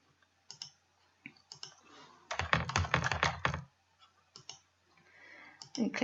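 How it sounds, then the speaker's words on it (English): Someone types on a computer keyboard to enter a cashbook entry: scattered single clicks, then a fast, loud burst of keystrokes, then a few more taps, all close by. "We click on here and we start typing marketing"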